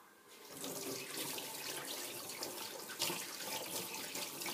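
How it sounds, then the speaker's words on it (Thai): Tap water pours steadily over squid being washed clean in a sink, a continuous splashing rush that is fairly quiet and near, with no voices. "เฮาก็จะล้างออกให้หมดนะคะ"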